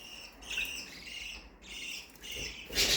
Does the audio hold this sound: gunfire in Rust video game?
no